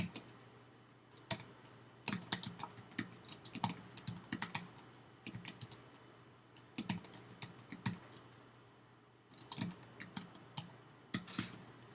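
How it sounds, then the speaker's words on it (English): Computer keyboard typing in irregular bursts of crisp, close clicks with short pauses between runs, steady and fairly loud with no talking. "and then we're going to start typing"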